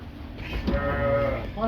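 Several sheep from Zomin bleat nearby in a steady, overlapping chorus, one long wavering call standing out above the flock.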